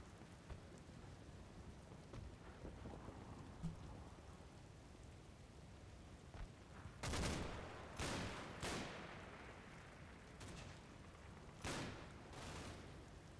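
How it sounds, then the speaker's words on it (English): Heavy-caliber artillery shells landing in the Combat Mission: Battle for Normandy game, heard as distant, faint rumbling booms in a quick cluster over a steady low wash of background noise. "It does sound like pretty heavy caliber shells there."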